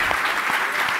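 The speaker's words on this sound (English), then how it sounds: "So another round of applause for Nate Fessig." A conference audience at the STD Engage 2023 opening plenary claps, a brief burst of dense, even applause filling the room.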